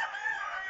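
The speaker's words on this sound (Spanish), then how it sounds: "hasta platica el gallito" A rooster in a fighting-cock pen gives a brief, faint crow, a single short harmonic call heard alone.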